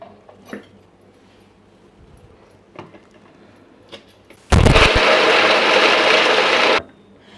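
An electric kitchen chopper chops carrot, onion and sweet corn for chicken momos, a loud continuous whirring burst of about two seconds after a few quiet knocks.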